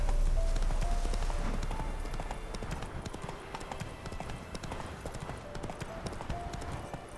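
A horse gallops steadily in The Witcher 3: Wild Hunt, its hoofbeats loud and continuous throughout, tapering slightly after the opening seconds.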